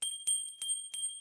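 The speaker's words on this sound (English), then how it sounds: "This is my bell. It's like a sound healing thing." A small sound healing bell rings four times in a bright, evenly spaced sequence, each strike sharp and clear with a thin sustained metallic tone lingering beneath, close and alone without any talking.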